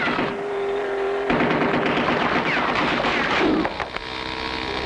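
Gunfire from a turret on a vehicle in a classic cartoon rattles in rapid bursts over a constant engine drone, loud and close, with no talking.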